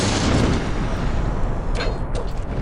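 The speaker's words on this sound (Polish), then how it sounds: "Także eksplozja, jakiś tam zwykły czar z dystansu." Explosion spell cast at range in the video game Gothic 2, a loud, dense booming blast that fills the whole stretch with rumbling low-end noise, with no voices over it.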